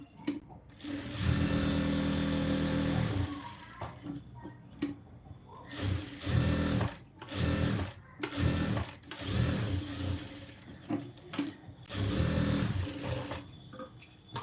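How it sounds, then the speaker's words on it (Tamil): A sewing machine stitching around a lined blouse runs in repeated bursts of whirring, with short pauses and stops between runs, close and fairly loud. "இப்போ வந்துட்டு சுற்றி தையல் போட்டு எடுத்துக்கலாம்"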